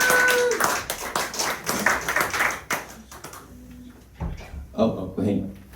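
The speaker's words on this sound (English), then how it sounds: "Let's give you all a round of applause." Audience at a music hall claps and cheers, a loud burst of applause that fades after a few seconds, with voices talking over the later part.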